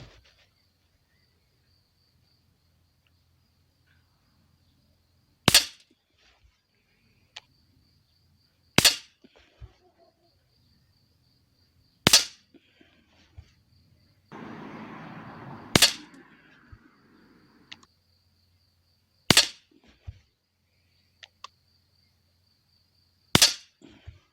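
A Beeman P17 air pistol fires flat pellets at a 10 m target, with seven sharp, close shots spaced a few seconds apart, faint clicks between them and a brief rustle midway.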